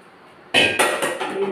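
Kitchen bowls and dishes clatter together close by in a few sharp clanking knocks after a quiet start.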